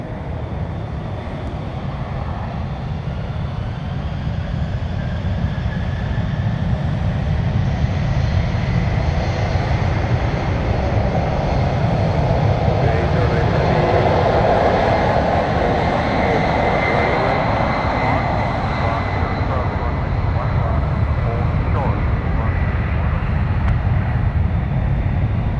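A Boeing 767 with CF6 engines taking off from San Francisco airport, a loud sustained roar and rumble of jet engines that holds steady, with rising whine and broadband thrust noise.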